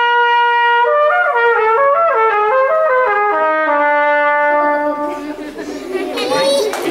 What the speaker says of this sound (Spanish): Esto es un tubo de metal con tres pistones, una campana y básicamente la trompeta es esto.